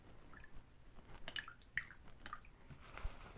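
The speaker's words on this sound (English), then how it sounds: "Let me wash this brush out really, really well." A paintbrush is swished and rinsed in a water cup, giving faint, close, wet squishing and light dripping sounds in short irregular bursts against quiet room tone.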